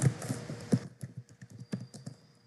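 Computer keyboard typing Python code, a quick uneven run of close, moderately loud key taps that thins toward the end.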